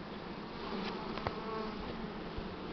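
Honeybees drone around an opened hive during spring nest expansion and mite treatment, a dense, continuous close buzz with a few individual bees passing nearer, and no voices.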